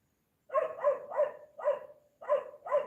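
A dog barks close by, six sharp barks in an uneven rhythm with short gaps between them, heard alone with no talking.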